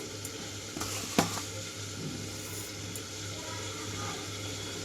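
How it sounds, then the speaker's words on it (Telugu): Tempering seeds dropped into about three tablespoons of hot oil for an okra stew, a low steady sizzle with a sharp clink of a utensil on the pan and light scraping, close and fairly quiet. "ఆయిల్లోకి తాలింపు గింజలు మొత్తం వేసేసుకుంటున్నానండి"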